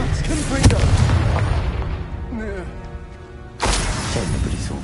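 A Confringo spell in the Hogwarts Legacy video game detonates with heavy booming blasts amid battle noise and shouted voices, then the din drops away briefly before another loud burst of action returns.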